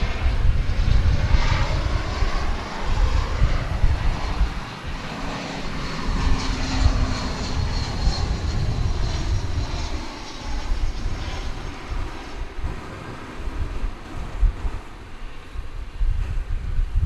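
Passenger jet arriving from Denver at DFW Airport, a sustained broad engine roar with wind buffeting the microphone, holding steady across the whole stretch without talk.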